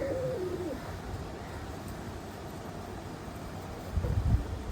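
Spot-marked pigeons cooing in a loft, a few soft, low, throaty coos near the start and a louder burst near the end over a steady background hum.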